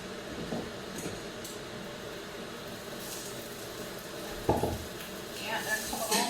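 Onions frying in a pan for spaghetti bolognese, a soft sizzle with intermittent stirring scrapes and clinks of a utensil against the pan, one sharper knock midway, with brief talk.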